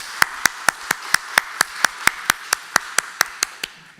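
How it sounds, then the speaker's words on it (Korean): Slow, evenly spaced claps ring out about every quarter second inside a church as the congregation marks members' birthdays at a Sunday service, sharp and fairly close, fading at the end. "우리 성도들의 생일 축하하면서 한번 박수해 주시면 고맙겠습니다"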